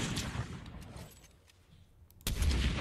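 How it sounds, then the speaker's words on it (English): Gunfire in the video game Fortnite: a burst of sharp shots at the start, quieter scattered pops in the middle, then a loud cluster of shots near the end. "I'm just hearing gunshots"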